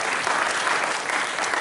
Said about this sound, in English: Big round of applause for a fursuiter who didn't know they were going to help us out.